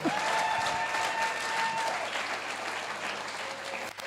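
Audience applause at a public speaking masterclass, a steady wash of many hands clapping from start to finish, fairly faint, with a brief voice under it.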